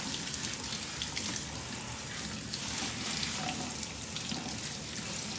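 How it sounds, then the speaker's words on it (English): Oxtails rinsed under a running kitchen tap, a steady broadband hiss of flowing water into a sink lasting throughout, fairly close and even, with no talking. "I'm going to rinse it off over here on this side"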